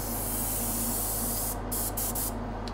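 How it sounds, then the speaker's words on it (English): A spray bottle mists warm water onto a model bulkhead in a loud, continuous close hiss that breaks into a few short bursts near the end. "Spraying this all over the bulkhead."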